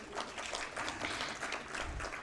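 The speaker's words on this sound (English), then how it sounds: "Please give a big round of applause." An audience at a Civil 20 India conference closing event gives a round of applause, with dense, continuous clapping held at an even level from start to finish.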